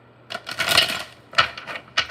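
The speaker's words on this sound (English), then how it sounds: "Let me shuffle one more time." Tarot cards being shuffled by hand, heard as three quick riffling bursts of crisp papery clatter with short gaps between them, close and alone.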